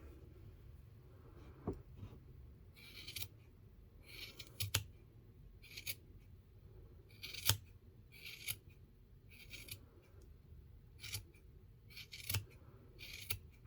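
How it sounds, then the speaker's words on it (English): Scissors snip crochet yarn while trimming a finished Santa hat Christmas ornament, giving a series of short, crisp cuts in irregular clusters at close range with no talking. "Just keep trimming around until it's nice and even."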